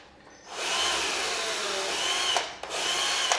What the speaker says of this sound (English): So I'm going to drill them, careful not to go all the way through the table.